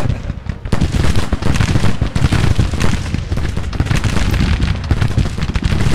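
Continuous Civil War musket and artillery fire in the strategy game Grand Tactician, a dense, loud barrage of overlapping shots and booms with no pauses throughout.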